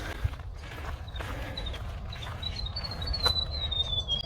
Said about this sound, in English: I stopped here because I could hear birds